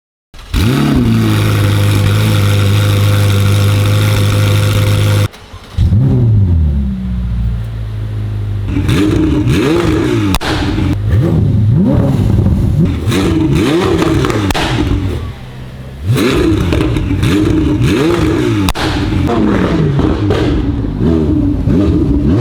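A loud Ferrari F8 engine with a custom cat-back exhaust idles with a rough rumble, then revs repeatedly in sharp bursts with crackling exhaust, very close and alone.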